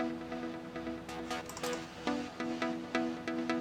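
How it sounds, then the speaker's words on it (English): A synth lead plays a bouncing pattern of short, bright plucked notes in a dance production, each note ringing out into a reverb tail, with no voices. "A little leading pluck type sound."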